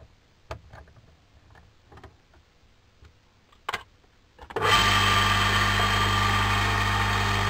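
Several scattered ticks and taps come first, then a power tool spins up with a segmented sanding disc smoothing the rough edge of a disc spoon, giving a loud, steady, close whine and rumble that continues to the end.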